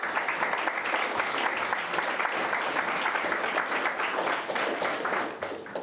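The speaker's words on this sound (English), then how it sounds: "A round of applause for all of you." Sustained applause from a large crowd at a youth parliament event, steady and dense clapping throughout with no talking, tapering slightly at the very end.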